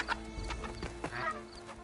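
A chicken-like bird clucks a few times in short bursts, close and moderately loud, with no talking.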